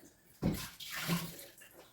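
A toilet flushes in an apartment, water surging and swirling with a sudden start, then a second rushing wave, close and moderately quiet.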